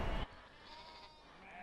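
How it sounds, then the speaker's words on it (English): Sheep bleating in a sheep pen on an Irish farm, a brief burst at the start followed by faint, low-level barn ambience. "So back into here, and this is your sheep area."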